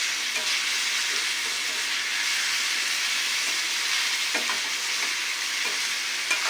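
Carrots and onions frying together in a pan, a constant close hiss of sizzling oil with occasional soft stirring scrapes.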